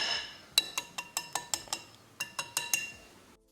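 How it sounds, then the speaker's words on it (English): Fish pieces dropping one after another into a bowl of pakora batter, giving about a dozen crisp, evenly spaced clinks and taps against the bowl in two quick bursts, close and clear with no talking. "Now I'll add fish pieces in there."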